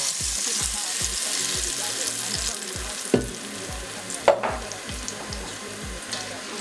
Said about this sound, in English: So now we pour this straight into the oil, yeah?